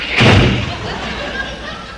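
A vocal imitation of a car door slamming gives one sharp, heavy thud near the start, followed by a fading, resonant tail.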